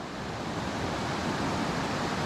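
A stream out in the open in Utah on a warm September afternoon gives a steady, even rush of flowing water, full and close, with no voices or other sounds over it.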